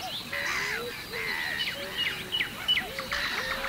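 A chorus of wild birds calls and chirps across the flooded, marshy banks of the Biebrza river at dawn, with overlapping sharp chirps and rising whistled notes at moderate distance, layered over a steady background.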